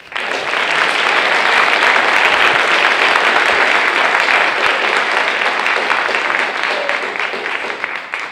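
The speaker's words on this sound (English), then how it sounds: "so one more round of applause" An audience at a middle school Veterans Day assembly breaks into loud, dense applause. The clapping starts abruptly and holds steady for several seconds before thinning slightly at the end.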